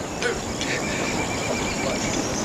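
A horse whinnies briefly against a steady bed of broadband noise, with a few faint higher calls and rustling, no talk.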